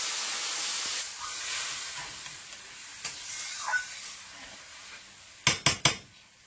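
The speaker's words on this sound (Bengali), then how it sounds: "এর মধ্যে এবার একটু জল দিয়ে দেবো" Water poured into a hot pan while chicken cooks hisses loudly at first and fades to a soft simmer, followed by a few sharp knocks of utensils near the end.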